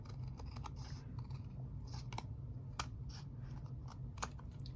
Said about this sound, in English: I'm just gonna take a pair of scissors and just snip off this edge here